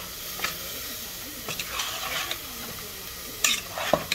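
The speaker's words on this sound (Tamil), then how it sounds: "வெங்காயம் வேகிக் கொண்டு இருக்குது." Onions cook in sesame oil in a pan, giving a soft steady sizzle broken by several brief scraping stirs, close and alone.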